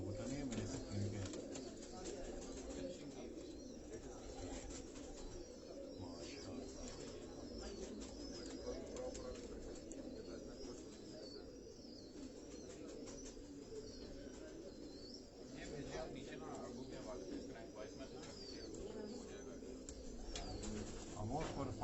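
Pigeons in a Karachi fancier's loft coo in low, continuous murmurs, with occasional wing flaps and chirps. People talk over the cooing for much of the stretch.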